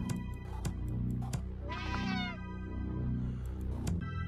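Cartoonish cat meows from the video game Slayaway Camp, one clear drawn-out meow in the middle amid repeated game sound effects and background music.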